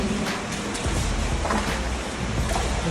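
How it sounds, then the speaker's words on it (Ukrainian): A loud, continuous rush of the underground Protasiv river roars without pause through a collector tunnel, dense and close, echoing as if in an enclosed space. "шум води притом сильний"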